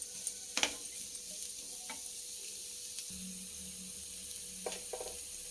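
Sliced onions with curry leaves and green chilli slits frying in oil in a pan, a soft steady sizzle with a few light stirring scrapes and clinks, fairly quiet and close, no talking.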